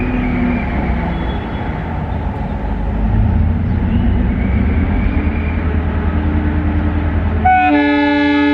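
WAG-7 twin locomotives rumble past near Pune with a heavy, steady roar of wheels and engines, and a loud multi-tone horn blares in the last second.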